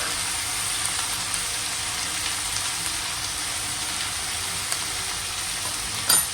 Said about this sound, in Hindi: और अब इस सब्जी को अच्छे से पलटाएंगे।